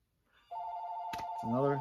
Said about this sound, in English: I should have turned off the phone before I started this.